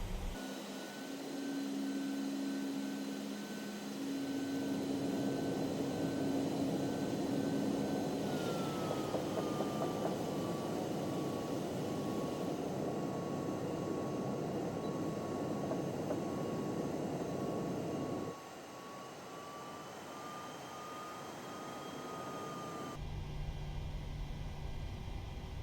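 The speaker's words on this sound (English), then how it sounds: "just speed the time up whilst we taxi along the runway" Simulated PMDG 737-800 jet taxiing in Microsoft Flight Simulator, a steady loud engine whine and broadband rush with a slowly shifting tone, holding alone throughout with a brief change near the end.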